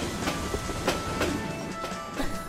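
A cartoon train runs along rails with a steady clickety-clack of wheels over track joints, loud and close, with a continuous rumbling underneath.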